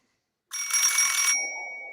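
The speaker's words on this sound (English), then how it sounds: "That'll be the old phone sound effect that means on the line, caller." An old-style telephone bell rings once in a bright, trilling burst after a moment of silence, then cuts off and leaves a faint fading ring behind.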